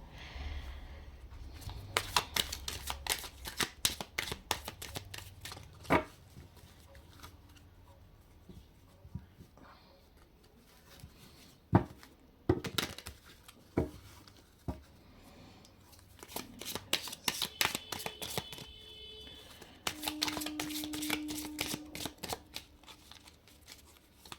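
A tarot card deck being shuffled over and over in bursts of crisp riffling and flicking, with soft handling noises and pauses between passes, close and moderately loud, no talking.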